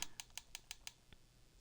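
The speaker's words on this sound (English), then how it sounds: "I know I'm clicking loud on that controller" Loud plastic clicks from a game controller's buttons during Minecraft play, about six sharp evenly spaced taps in quick rhythm, then a single softer click after a pause, close up with no talking.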